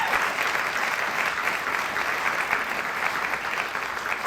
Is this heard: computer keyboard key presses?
no